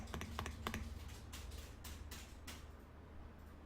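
A computer keyboard's Enter key is pressed in a quick series of light, crisp clicks near the start, followed by a few softer scattered keystrokes over a faint room hum.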